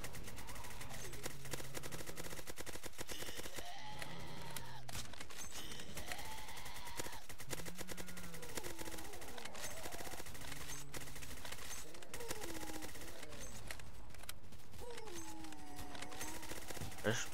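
Rapid machine gun fire rattles in bursts through a Roblox Zombie Uprising match, mixed with tonal game music and effects and a person talking over the action.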